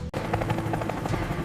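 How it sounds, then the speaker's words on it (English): An AH-64 Apache attack helicopter flies close and loud, its rotor beating in a fast, even chop over a continuous engine whine. "The AH-64 Apache, humanity's deadliest attack helicopter."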